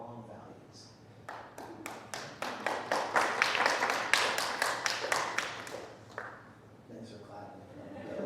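Audience applause at a campus talk at Bard College, a burst of many hands clapping that swells, peaks, then fades, with a few people talking around it.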